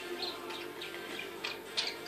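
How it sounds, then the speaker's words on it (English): Budgies chirp indoors in a busy, scattered flock of short high tweets and whistles, several sharper calls standing out near the end over a faint background hum. "It's budgies. Good bird."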